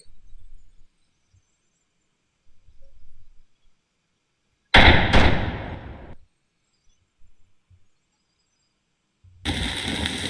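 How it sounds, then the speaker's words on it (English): Tank cannon fire in a multiplayer tank video game, heard as two sharp, loud blasts a few seconds apart with decaying rumble, set against near silence with faint low thumps between shots. "Now let's try to shoot the server tank."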